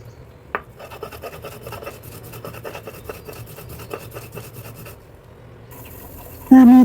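Spices are ground into bhorta on a flat stone slab and pata, giving close, rhythmic scraping and rubbing strokes in quick repeated passes, ending with a brief sharp tone.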